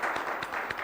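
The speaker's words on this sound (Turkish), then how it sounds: "Bir alkış istiyorum Emrah Gülü'ye" Brief burst of studio audience applause on a Turkish talk show, dense and steady clapping filling the short moment with no voices over it.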